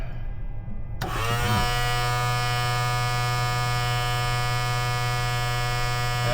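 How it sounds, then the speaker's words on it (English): Electric fuel pump running in a Cessna 172S before engine start: a steady, close mechanical buzz with a strong low hum that starts suddenly after a second of quieter cockpit noise, then holds constant. "I guess we just do a little bit of fuel pump"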